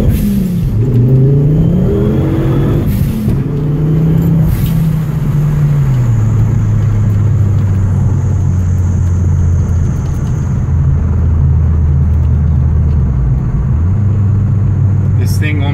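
A Ford Focus XR5 Turbo ST225 with a custom 3-inch intake accelerating hard, the engine note rising loud and close through the revs, then settling into a steady high drone with a brief dip near the end.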